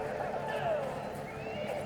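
Horses neigh and whinny amid the battle audio of Battle for Middle-earth II, with mounted units clip-clopping under steady game sound and commentary voices.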